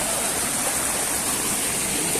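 The Véu das Noivas waterfall pours in a steady, loud, hissing rush of falling water that fills the scene without pause.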